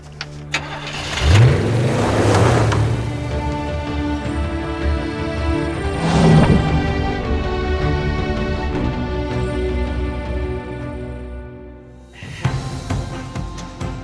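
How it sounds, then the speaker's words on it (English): A 1988 GMC Jimmy K5 cranks and fires up, its engine revving loudly, settling into a steady rumbling idle, then revving again near the end. "I've arranged for a 1988 K5 GMC Jimmy to be my ride back to Cairo."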